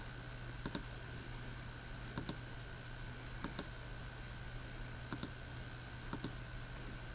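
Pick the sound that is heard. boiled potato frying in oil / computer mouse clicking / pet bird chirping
computer mouse clicking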